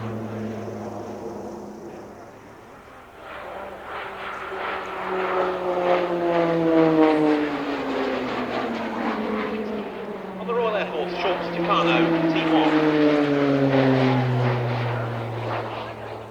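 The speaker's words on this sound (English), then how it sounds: "So Dan Hayes touching down in the Tucano" A Tucano turboprop trainer touches down at an air display, its propeller drone droning loudly and steadily with a descending pitch, then rising again, under a commentator's voice.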